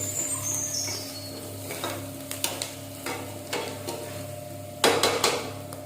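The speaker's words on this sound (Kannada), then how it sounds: "ಒಗ್ಗರಣೆಯನ್ನು ಮಧ್ಯಮ ಉರಿಯಲ್ಲಿ ನಿಧಾನವಾಗಿ ಬಾಡಿಸಿಕೊಳ್ಳೋಣ" A tempering sizzles in a pan over a medium flame for a pumpkin palya, a steady soft fizz punctuated by several metallic spoon scrapes and knocks, with a louder clatter toward the end.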